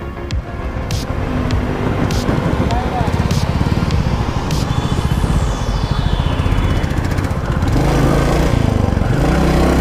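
A Royal Enfield Classic 350 black motorcycle accelerates through its gears on a road, a steady loud thumping single-cylinder engine note that rises and shifts, with a voice speaking over it throughout.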